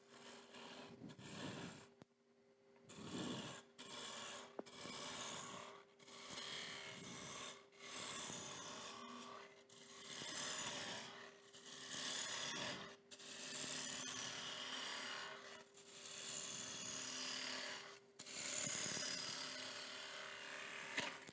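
A smaller gouge hogs quickly through wood while a bowl is carved, giving long rasping scraping strokes broken by short pauses, steady and close, with no talking.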